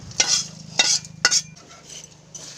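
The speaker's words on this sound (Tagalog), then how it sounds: "Haluin lang po ulit ng haluin." Fried dried anchovies (dilis) stirred through thick, sticky syrup in a pan, with three distinct scraping strokes close up over a faint background bubble, followed by a softer, quieter stretch.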